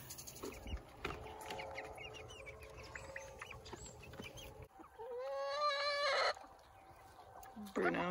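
Chickens cluck and murmur nearby in a quiet yard, scattered soft calls with a brief louder squawking burst partway through, over faint background noise.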